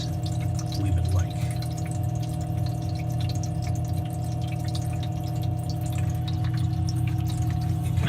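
The water pump of a Manitowoc QM 45A ice machine runs with a steady, close electrical hum, with faint trickling and dripping water layered over it throughout.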